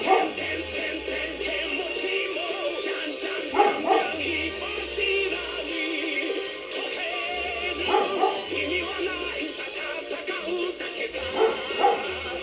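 A dog barks and yips repeatedly in the Free Fire battle game, in bursts over steady game sound and music, with a few whimpering tones and a voice talking now and then.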